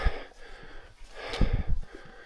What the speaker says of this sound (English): You can hear I'm breathing heavy